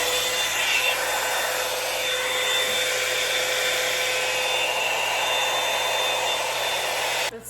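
A Revlon One Step or Drybar Double Shot hair dryer brush blows on high heat, a steady close whooshing roar holding level throughout and cutting off abruptly at the end.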